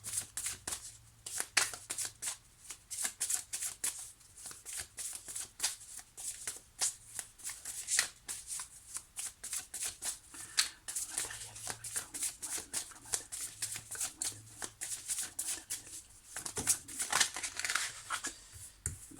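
Tarot cards shuffled by hand continuously, a steady crisp flutter of riffling and sliding cards with soft rhythmic slaps, close and fairly quiet, with no talking.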